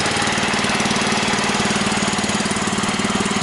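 A Bolens Husky 600 garden tractor runs with its Kohler K141S single-cylinder engine and spinning pulleys, a loud, close, steady chugging knock at an even rhythm, with no talking.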